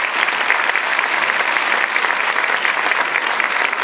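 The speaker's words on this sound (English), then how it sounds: "A round of applause for him" Loud, dense applause from a school choir concert audience honoring the accompanist, continuous clapping throughout a few seconds with no voices on top.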